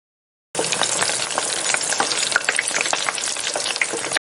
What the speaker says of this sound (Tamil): கடாயில் நெய் ஊற்றி வெங்காயம், மசாலா, தக்காளி எல்லாம் சேர்த்து வதக்கவும்.